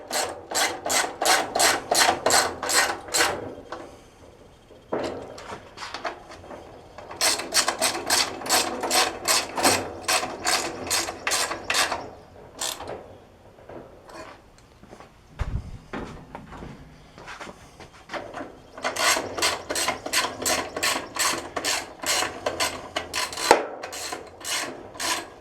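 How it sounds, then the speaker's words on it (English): Bolts on the pull-start shroud of a Briggs and Stratton small engine tightened with a ratchet, three long runs of fast, even clicking close by, separated by short quiet gaps and stray clunks. "Now I'll tighten up the bolts for the pull start shroud."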